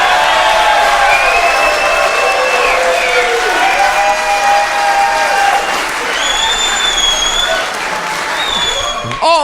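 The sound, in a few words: audience applause and cheering for a speech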